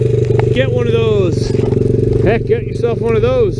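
A Honda XR 100 dirt bike engine idles in the snow after skidding to a stop, a loud close rhythmic putter running throughout beneath a man's speech.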